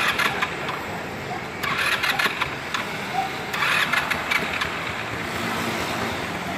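Rusi Passion SC125 scooter engine cranking and catching, then settling into a steady mid-pitched idle, fairly quiet and close, with intermittent clicks and faint background noise.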